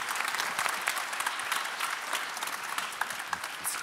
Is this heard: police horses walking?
no